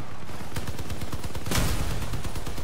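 Rapid volleys of weapon fire from Crossout vehicle-combat gameplay, including a cannon, sound as dense repeated blasts throughout, with a heavier burst in the middle, loud and continuous with no talking.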